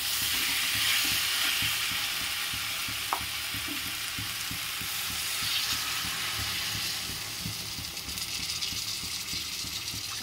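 Vegetables, potato and eggplant frying in a pan make a steady, loud sizzle and hiss throughout, with small pops and the occasional stir.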